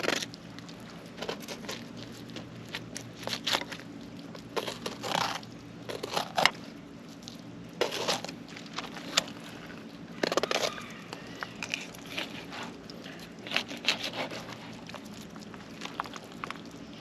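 A knife cuts through the pin bones of a striped bass fillet, making scattered crunchy cracks and snaps in uneven bursts against a quiet background.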